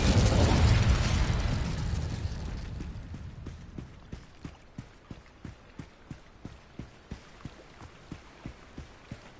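A fire spell in Hogwarts Legacy erupts in a loud, broad blast that slowly fades, followed by a run of evenly spaced footsteps or clip-clop hits.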